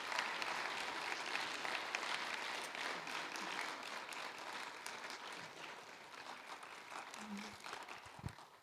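Audience clapping for two young ladies at a church presentation, a steady wash of applause across the room that slowly tapers, without speech over it.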